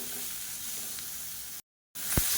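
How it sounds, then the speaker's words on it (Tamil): Onion and tamarind sauté in a pan for chutney, giving a steady close sizzle that cuts out briefly and then resumes with a soft knock. "இப்போ இதையும் சேர்த்து நல்லா வதக்கிக்கலாம்."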